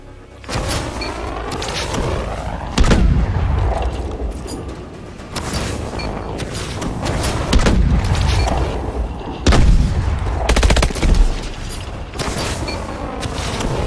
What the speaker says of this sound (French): Activation de l'entraînement aux grenades.